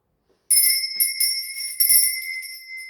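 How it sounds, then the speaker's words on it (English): A small hand-rung bell used to cleanse a space, struck after a moment of silence with a bright, high sustained ring, several quick repeated strikes layering into a shimmering tone that slowly fades, alone and close. "I'm going to ring my bell."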